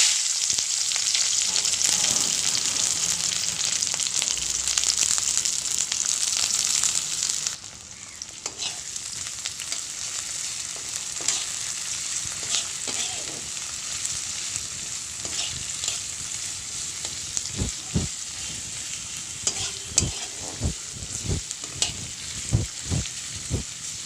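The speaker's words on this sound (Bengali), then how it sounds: "তাহলে পেঁয়াজটা দিয়ে দিই তেলের মধ্যে দেখো দিয়ে দিচ্ছি পেঁয়াজ" Sliced onion frying in hot oil, a loud, steady sizzle that fills the scene, then settles slightly quieter with intermittent stirring scrapes and clicks, no voices.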